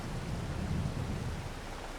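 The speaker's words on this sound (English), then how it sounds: "I don't know if I'm going to be able to now with it raining like this" Steady rain and rolling thunder from the Farming Simulator 22 game weather fill the clip as a continuous, dense wash of noise with a low rumble underneath, with no talking.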